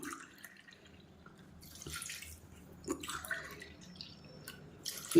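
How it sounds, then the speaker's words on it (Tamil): Milk is poured into a pot of sweet rice, making faint, uneven splashes and drips in a quiet kitchen. "இப்போ இதில் நம்ம பால் சேர்த்துக்கலாம்"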